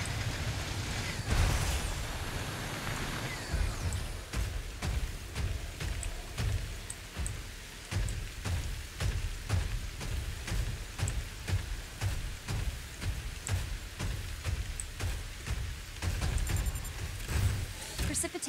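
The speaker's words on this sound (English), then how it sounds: "Looks like a mild drizzle." Steady light drizzle falling in the game SYNDUALITY Echo of Ada, a continuous broadband patter with a rhythmic pulsing underneath and faint speech-like sounds mixed in.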